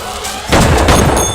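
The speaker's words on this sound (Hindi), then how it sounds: "उसने विक्रम पे गोली चलाई" A single loud gunshot bursts out sharply in a Hindi film scene, following a quieter stretch and leaving a short booming tail.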